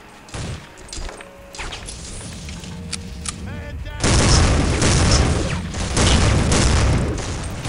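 Grenade explosions go off in a Soldier of Fortune II firefight: scattered thuds and crackles come first amid talking, then a loud, sustained blast and roaring crash takes over from the midpoint onward.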